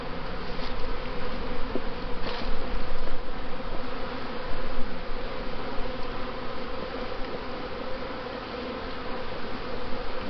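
Honeybees buzz continuously around an opened hive with drawn comb on new foundation, a dense, steady hum close by, with brief louder swells as individual bees pass near.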